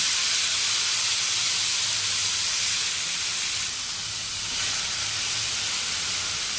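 Tomatoes cook in a frying pan for a restaurant-style gravy, giving a loud, unbroken hissing sizzle that holds steady up close throughout.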